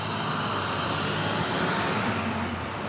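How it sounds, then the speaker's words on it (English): A bus rumbling past on a road amid traffic, a steady broadband roar at moderate distance that swells slightly and holds without a clear peak. "I'm waiting for that bus to go by because it's kind of noisy."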